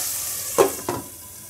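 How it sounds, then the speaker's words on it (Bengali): Potatoes fry in a pan, with two short, louder bursts of stirring and sizzling that rise above a quiet, steady background hiss. "আলুটা ভাজা হয়ে গেছে এবার একটু নামিয়ে নেবো"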